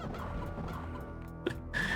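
Chicken clucking from the Heretic video game after an enemy is morphed into a chicken, a few short faint clucks over game background noise and music, ending in a higher tone.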